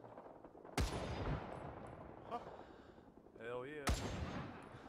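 Rising Storm 2 video game gunfire: two loud, sharp gunshots about three seconds apart over a constant battlefield din, with a man's short exclamation and a brief whistling tone between the shots.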